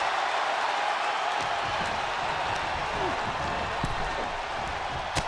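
A wrestling arena crowd in the WWE 2K24 video game keeps up a constant, dense roar and hiss of cheering, with commentators talking over it.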